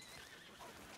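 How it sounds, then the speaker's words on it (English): A horse whinnies and hooves clip-clop in Red Dead Redemption 2, a faint, brief neigh rising near the end over low background noise. "Horse."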